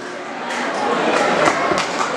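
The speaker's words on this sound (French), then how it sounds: "Applaudissez, applaudissez, applaudissez." A school audience at a cultural evening for a lycée's diamond jubilee in Lemba applauds, a dense, continuous wash of many hands clapping with crowd noise, steady and fairly loud.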